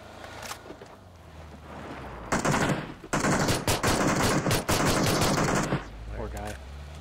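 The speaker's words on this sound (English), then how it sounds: "In fact, I kind of want to shoot him." Sustained machine gun fire from a PUBG battle, loud and dense bursts with brief gaps, rattling over a windy outdoor background.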